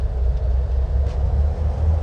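A Piper PA-44 twin-engine plane in a flight simulator runs up its power with the brakes set, a steady loud low rumble and drone that holds constant throughout, with no voices.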